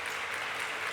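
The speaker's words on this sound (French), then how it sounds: "nous allons vous demander d'applaudir très très fort pour nos amis les évaristes" Audience applause at a French competition show, a brief steady wash of dense clapping.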